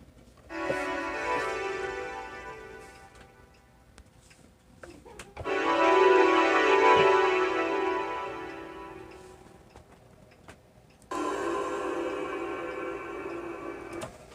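Sustained keyboard chords recreating the PS2 startup sound ring out in three separate swells, each held for a few seconds, soft and synth-like with quiet gaps between them.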